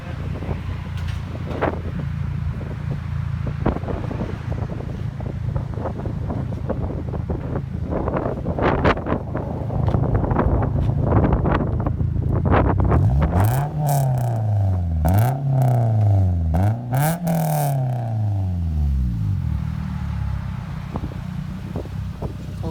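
A 2009 Toyota Corolla with a resonator delete and stainless steel muffler idles, then revs up three times in rising and falling sweeps, its deep exhaust loud and close amid wind buffeting on the microphone.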